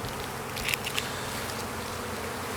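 Honey bees buzz around an open beehive as hive tools scrape frames, a faint steady hum with a couple of brief louder buzzes as single bees pass close.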